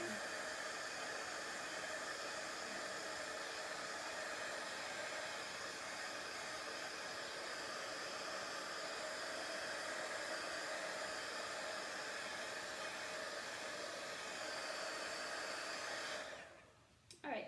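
A hair dryer blowing steadily on a freshly painted Christmas tree and tag craft crate, an even loud whoosh running continuously before cutting off near the end with a brief clatter.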